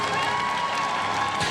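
An audience applauds steadily at a Russian figure skating championship during the pairs free program, a dense and even wash of clapping and cheering with no break.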